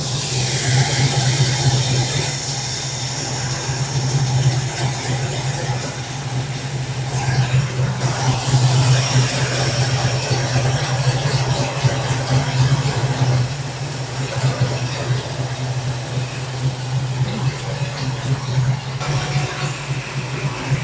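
A 1967 Chevrolet Camaro engine idles close by at around 1,000 rpm, a steady low droning rumble that holds unbroken for the whole stretch.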